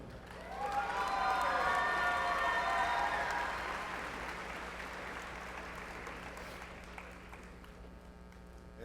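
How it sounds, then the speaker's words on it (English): Crowd applause and some cheering at a university lu'au, a broad wash of clapping that swells over the first few seconds, then slowly fades, with a sustained tonal musical sound above it early on. "if we can get one more big round of applause for all the parents that work tirelessly for us."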